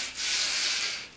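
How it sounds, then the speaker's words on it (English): A 120-grit long sanding block scrapes across body filler in one sustained, close, hissing stroke, rising and easing off at the ends. "I'm sanding this right now with some 120"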